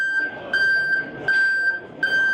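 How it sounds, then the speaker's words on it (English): Grain bin level sensor alarm shown at a farm trade show, sounding a loud, steady high-pitched tone that pulses in repeated bursts about every half second to second, with faint background noise. "So you hear that very loud alarm."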